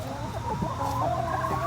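Backyard chickens cluck softly nearby in a short burst of low, murmuring calls, with a faint higher note near the end.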